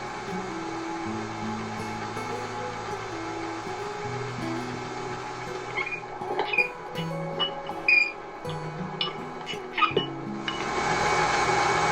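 Electric stand mixer running on low speed, mixing a paste with powdered sugar for an eggless chocolate cake, a steady motor whir with a few clinks of the bowl, rising louder near the end.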